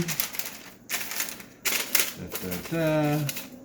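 Keto fish mixture patted flat by hand onto parchment paper in a home kitchen, heard as a few sharp tapping slaps spread across the clip, with a voice speaking near the end.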